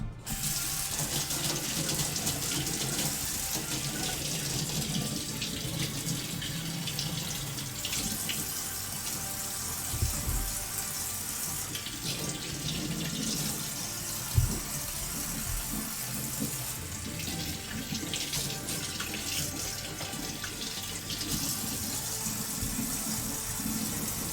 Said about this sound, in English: I want to give a couple of these a little bit more of a rinse off